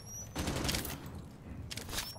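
Rapid bursts of automatic gunfire from the video game Rainbow Six Siege, two sustained volleys separated by a brief pause, loud and close with no talk over them.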